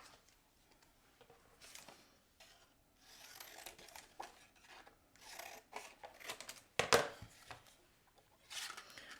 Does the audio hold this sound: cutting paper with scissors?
yes